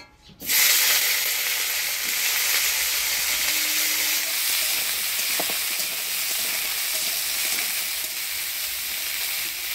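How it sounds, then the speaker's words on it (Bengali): Cauliflower, carrot, beans and peas fry in hot oil with a little salt, giving a loud, steady sizzle that runs unbroken from just after the start to the end, with no voices. "এই তেলের মধ্যে ফুলকপি, গাজর, বিনস, মটরশুঁটি হালকা নুন দিয়ে ভেজে নিব।"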